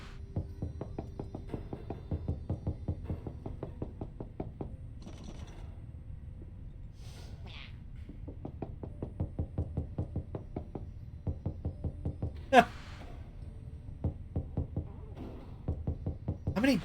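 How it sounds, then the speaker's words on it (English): Fast, rhythmic knocking in the video game Pyre comes in long runs of evenly spaced taps, broken by short pauses and a few louder accents, with faint game sounds between the runs. "How many different knocking sounds are in this game?"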